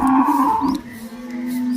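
An HF dairy cow at a cattle market gives a long, loud, close moo that holds a steady low drone, with no talking over it.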